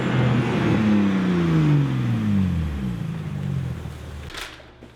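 A car revs up close and loud, the engine note rising and falling through several throttle blips before dropping away, with a crackle near the end.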